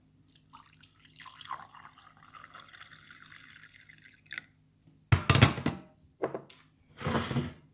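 Hot water is poured into a cup to make roselle instant tea: a soft trickle and drips, then louder splashing bursts of pouring, close by, with no talking.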